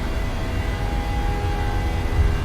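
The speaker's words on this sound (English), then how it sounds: "And toga. Takeoff power set." Boeing 737-700 jet engines spooled to takeoff power in a flight simulator, a steady dense roar with a thin sustained whine, constant and fairly loud throughout without pause.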